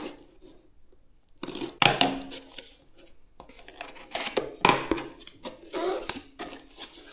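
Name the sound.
unboxing a CPU cooler box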